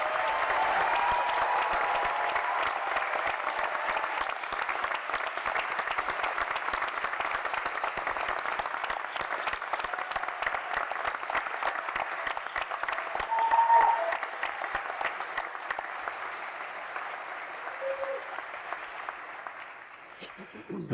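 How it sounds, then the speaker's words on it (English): An audience at a new lawyers' induction ceremony for the State Bar of Texas breaks into sustained applause, a fairly soft, even patter of many hands that carries on for about twenty seconds before tapering off. "give a big round of applause to all the people whose love and support"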